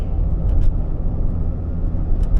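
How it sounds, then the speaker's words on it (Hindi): Inside a Honda Accord cabin at 80 km/h, tyre road noise makes a steady low rumble with faint brief ticks, and no voices. "अंदर अब तो केबिन नॉइज़ भी नहीं आ रही, सिर्फ टायर की नॉइज़ है"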